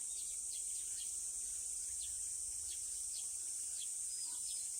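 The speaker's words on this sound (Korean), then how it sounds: "참새 소리 들리죠?" Faint, scattered sparrow chirps in the distance over a field, short high tweets repeating irregularly over a steady high insect whine.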